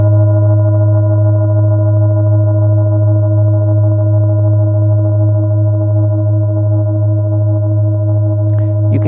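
A hand-carved Tibetan singing bowl engraved with an intricate yantra rings steadily with a clear low fundamental and warm layered mid overtones, sustained and loud throughout, alone with no talking, with a faint touch near the end.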